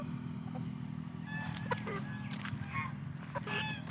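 Fowl at a desi poultry shop give brief honking, squawking calls over a steady low hum of crowd and traffic, with scattered clucks and cries across the scene.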